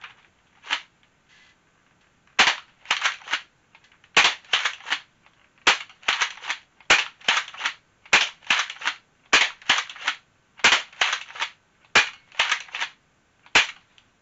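A Dart Zone foam dart blaster fires a rapid series of sharp, loud snapping shots in quick bursts, about ten, close and alone with no talk.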